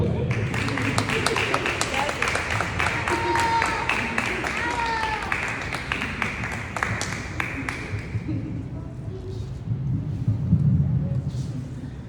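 A congregation applauds at a church wedding Mass. Brisk clapping rings through the room for about eight seconds, then dies away into low rumble and a few voices.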